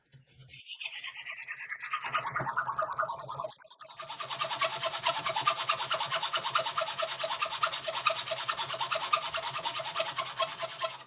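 Rhythmic rasping strokes of a saw or file cutting metal tube to length for small pliers, with a brief pause before a steadier, faster run of strokes.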